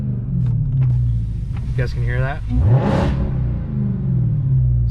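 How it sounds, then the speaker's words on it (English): A supercharged Dodge Hellcat fitted with a JLT intake idles with a deep, steady rumble, then gives one sharp, loud rev that rises and falls back to idle. Someone talks over the engine throughout. "I'm gonna do a little rev for you guys."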